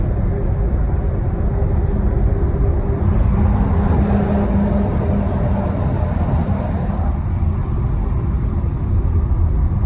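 Road noise from a 14-wheel truck on the road in India, a loud continuous engine and tyre rumble heard from a moving vehicle, steady throughout with faint voices underneath.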